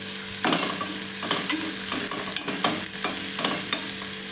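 Onions frying in a pan while being stirred, a steady sizzle with repeated scraping strokes of a spoon at an irregular rhythm, close and fairly loud with no voices.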